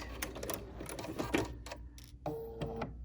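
A sewing machine runs a short burst of reverse stitching on blouse fabric, its needle chattering in rapid mechanical clicks that speed and pause, close and fairly quiet, followed by a brief whirring stop and a few sharper taps.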